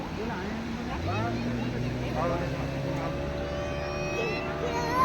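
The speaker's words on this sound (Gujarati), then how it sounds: "જો બીજી બોટ આવી ગઈ" A speedboat engine drones and rises in pitch as it speeds past at Nagoa Beach, with voices talking over the steady rumble.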